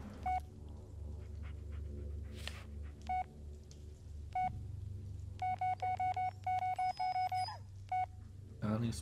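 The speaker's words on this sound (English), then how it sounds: "We're gonna call every number in the phone book just in case there's something important." Telephone keypad tones from the Blair Witch video game, a rapid series of short dialing beeps as a number is entered, heard over a low hum and ambient game sounds with a voice speaking at times.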